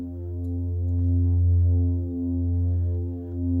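A deep synth bass in FL Studio with soft saturation pushed higher, a smooth sustained low tone that swells and dips in slow, throbbing waves, heard alone.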